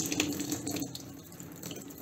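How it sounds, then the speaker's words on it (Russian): Water poured generously over metal parts bonded with super glue and polysorb, a close, splashing, trickling flow with scattered drips, fairly quiet and continuous throughout. "Все смачиваем обильно водой"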